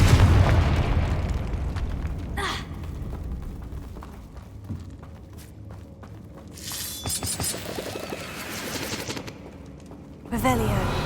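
Repeated blasting spells in a Harry Potter-style video game go off as loud booming explosions and rapid crackling gunfire-like bursts that carry on over a dense, noisy game backdrop.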